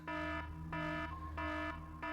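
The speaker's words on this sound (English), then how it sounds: "That is just our alarm letting you know there are 10 minutes remaining in this Fallout tournament." A tournament alarm tone at a Fallout pinball tournament sounds four times in an even rhythm, each burst a steady buzzing pitch lasting about a third of a second, loud and alone with no talking.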